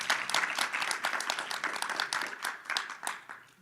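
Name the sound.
applause for the panelists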